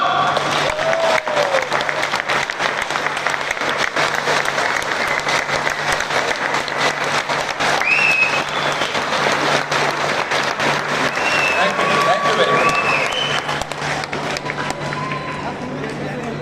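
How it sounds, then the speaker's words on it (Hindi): Sustained audience applause fills a hall at the Rise Together program in New Delhi, loud and steady from start to finish, with a voice briefly speaking over the clapping. "ताली बजानी है सबको।"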